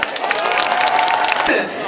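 Applause and cheering from a festival audience at a closing-ceremony concert, dense clapping under a murmur of voices for more than a second, then fading abruptly.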